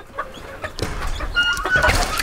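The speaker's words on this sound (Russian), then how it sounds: "Все, несу взрослым курочкам" Hens cluck close by in quick, overlapping calls as they are fed, the murmuring and clucking growing busier toward the end.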